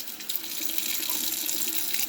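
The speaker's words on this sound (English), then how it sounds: "I'm going to start by just washing the board with just hot water" Hot tap water runs steadily over a rodent-damaged Denon AVR 588 stereo circuit board in a sink, a continuous close splashing hiss with no talking.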